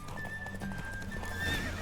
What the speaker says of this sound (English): Come on, horse. You can do it.